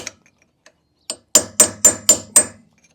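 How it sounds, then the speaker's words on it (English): Hammer blows bash out a nut during rear brake disc and wheel bearing work on a Citroen C3 Picasso: a few light taps, then five loud, evenly spaced metallic strikes up close. "To get the nut off. Like bash it out."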